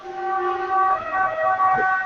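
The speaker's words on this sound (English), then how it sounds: "So an ambulance just went by here." An ambulance siren wails past outdoors with a steady, tonal, wavering pitch at moderate loudness, dropping slightly in pitch toward the end as it moves away.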